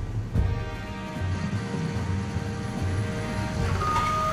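Reversing beeps from a cartoon crane truck, a steady electronic tone under a bed of low engine rumble and music, running throughout at moderate level.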